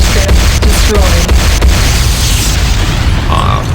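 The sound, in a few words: explosion of destroyed airstrip in a video game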